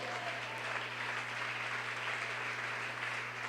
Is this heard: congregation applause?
yes